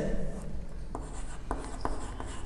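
Chalk or marker scratches and taps on a board during a physics lecture on electrostatics, close and fairly loud, with short strokes at an irregular pace over a steady room background.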